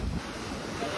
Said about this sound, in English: The waves are insane.